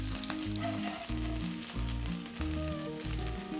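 Chicken frying in a pan for a pulao, a steady close sizzle with stirring that has a tonal, rhythmic pattern, and no voices.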